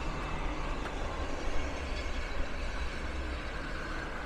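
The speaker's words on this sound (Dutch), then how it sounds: "Op de achtergrond een trein." A distant train rumbles steadily in the background beside a bike path along the railway, a faint, continuous low roar with no voices.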